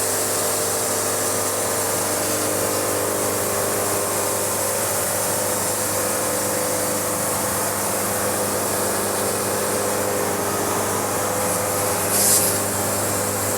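A log is cut with a saw, giving a loud, steady mechanical roar with a constant droning hum that holds unbroken from start to finish.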